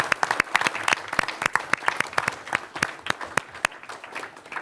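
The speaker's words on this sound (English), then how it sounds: "Let's give everyone at the Building Energy Exchange a round of applause." Applause for the Building Energy Exchange staff at a mayoral announcement, a small group clapping with distinct, uneven individual claps, fairly close and tapering off.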